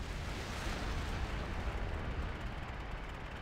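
Torpedo rockets blast ships in World of Warcraft: Battle for Azeroth, a continuous loud roar of explosions and rumbling fire filling the whole moment.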